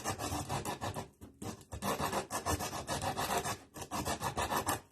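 Coarse 80-grit sandpaper rubbed by hand around a hole in thin, cheap wood, a steady rasping scrape in quick repeated strokes, close and fairly loud with one brief pause.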